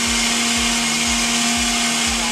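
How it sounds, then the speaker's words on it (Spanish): A blender or food processor whirs loudly and steadily, blending a whole mandarin, peel and all, for a torta de mandarina, with a regular pulsing thump underneath the motor drone. "Entero, cáscara, todo. En una licuadora."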